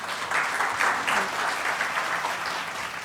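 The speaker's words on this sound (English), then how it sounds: "Please give him a huge round of applause." Audience applause at an e-mobility conference keynote, a moderate steady patter of clapping from a seated crowd that continues evenly throughout.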